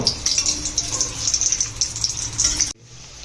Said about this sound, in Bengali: লুচিগুলোকে ভেজে নেওয়ার জন্য কড়াইতে দিয়ে দিচ্ছি সাদা তেল